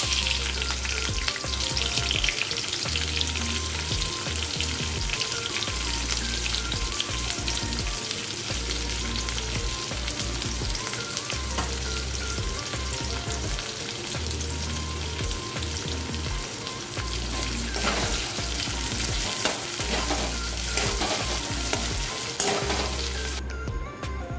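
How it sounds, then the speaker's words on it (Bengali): Sliced onions sizzle in oil in a pan alongside already-fried chilies, a loud, unbroken frying hiss with occasional stirring scrapes and low knocks throughout. "আমি পেঁয়াজ 2টো ছেড়ে দিচ্ছি, কোচানো পেঁয়াজ।"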